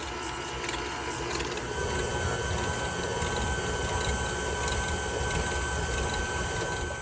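An electric mixer creams butter and sugar for snickerdoodle cookie dough, producing a steady whirring mechanical drone with a rattling, grinding texture, continuous and fairly quiet, with no talking.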